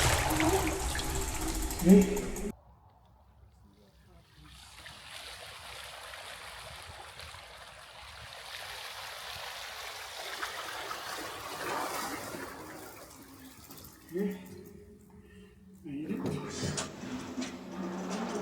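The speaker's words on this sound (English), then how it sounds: "let's get in the water and go across it into the entrance of the tunnel" Mooncool Pop foldable e-bike riding through water toward a tunnel entrance, with a rushing, splashing wash of water and mechanical clicking, loud at first and then steadier and softer.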